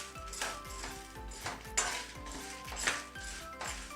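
Pepper and five dried red chillies are dry roasted in a pan with no oil, giving a faint rattle of spices and repeated light scraping clinks of a spoon against the metal pan, without talk.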